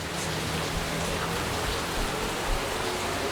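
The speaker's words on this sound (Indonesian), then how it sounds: "Kita nunggu hujannya reda dulu" Rain falls steadily and evenly, a dense close hiss of drops on surfaces with no pauses and no voices.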